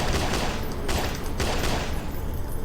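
Zombies are being shot in a video game, with a dense, continuous burst of rapid gunfire that stays loud and steady throughout with no pauses.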